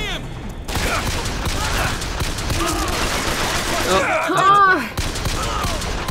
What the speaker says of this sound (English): You're being shot at.